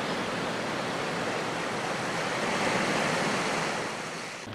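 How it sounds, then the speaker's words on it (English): Sea waves wash in a steady, broad roar along the shore at the Port of Los Angeles on the Bay of San Pedro, continuous and fairly soft, fading slightly toward the end. "I like the sound of the sea."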